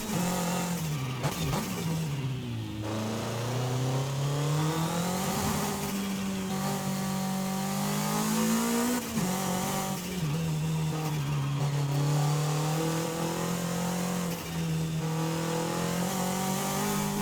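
A Toyota MR2 engine in Forza Horizon 5 revs continuously and loudly, with turbo lag as the pitch climbs, dips on shifts and rises again in a sustained, close drone with no talking.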